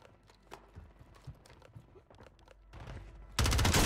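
Rapid automatic bursts from an HRM-9 in Warzone 3 crackle in short strings, then swell into a loud, sustained burst of fire at the end over busy game noise.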